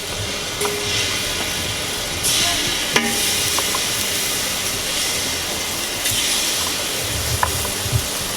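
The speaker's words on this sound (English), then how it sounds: "We're going to do a quick sear on things here" Fish and scallops sizzling as they sear quickly in a pan with oil, a loud continuous hiss and crackle up close, with occasional sharp ticks and pops and no talking.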